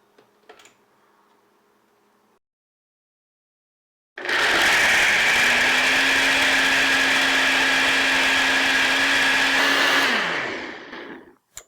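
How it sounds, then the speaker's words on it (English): A kitchen blender whirs loudly and steadily for several seconds as it blends coconut with water, then winds down and stops. "Into your blender."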